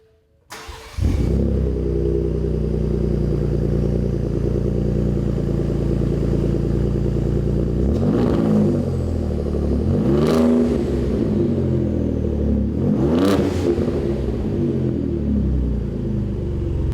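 A 2017 Ford F-150 Raptor with a Ford Performance dual rear exit touring cat-back exhaust starts and settles into a loud, deep idle rumble, then revs sharply three times, each swell rising and falling back to idle.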